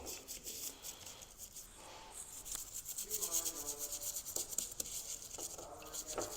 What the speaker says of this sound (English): So just a nice scrub. And I do have a little bit more aggressive of a brush, but it's pretty soft.